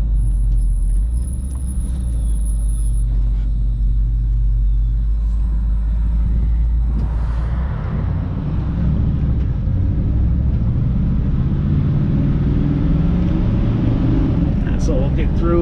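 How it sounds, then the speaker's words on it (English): A 1955 Pontiac Star Chief drives along a road and shifts through its gears, giving a loud, continuous low engine rumble with changes in tone as it accelerates. Heard from inside the car, with some faint talking underneath. "So see, it's going through the gears."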